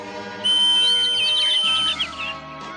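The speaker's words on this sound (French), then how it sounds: "c'est le sifflet de Garta pour appeler les oiseaux" A cartoon bird-calling whistle is blown in one long, piercing, steady high tone, then it gives way to softer, lower tones near the end.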